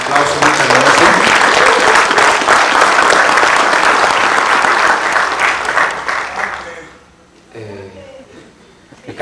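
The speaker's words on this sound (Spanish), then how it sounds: "Un aplauso, muchas gracias." Conference audience in Iztapalapa gives loud, dense applause that carries steadily for several seconds before thinning out, followed by a brief quiet gap with a few scattered sounds.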